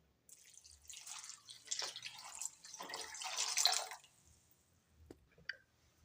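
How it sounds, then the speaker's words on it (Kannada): Water poured into a pot for vermicelli payasam, a steady splashing trickle in uneven surges for about three and a half seconds, then a few faint drips and small clinks. "ಈಗ ಇದಕ್ಕೆ ಸರಿ ನೀರು ಹಾಕ್ತೇನೆ ನೋಡ್ರಿ"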